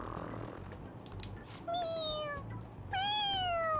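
Two clear, rising meows from a cat in Persona 5 arrive one after another over a quiet game background, close and distinct, with no talking.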